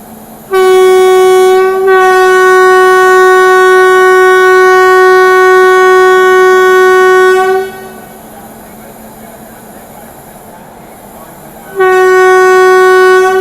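An Indian Rajdhani Express train, the 20504 Dibrugarh service, sounds a long loud steady horn, pauses briefly, resumes, cuts off over running rumble, then blasts again near the end.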